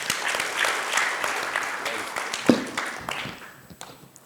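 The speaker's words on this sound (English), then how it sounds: "A round of applause," Audience applause at a consumer trends seminar, broad clapping that starts full and thins out toward the end, with a voice or two over it and a cheer near the middle.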